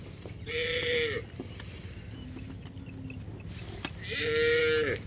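Nili Ravi buffaloes and cows at a livestock mandi in Okara, two loud drawn-out moos near the start and end with a fainter low call between, over a murmur of background market noise.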